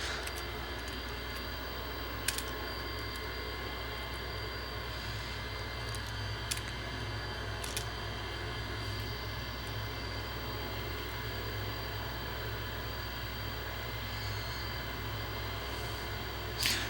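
Boeing 707 jet engines run up toward full takeoff throttle in FSX, a constant loud broadband roar with low rumble, steady for the whole stretch, with a few faint clicks on top.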